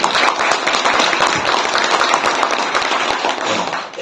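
An audience at a NARDECO convention in Delhi applauds minister Kapil Mishra with steady, dense clapping that fills the hall at full volume for about four seconds without a break.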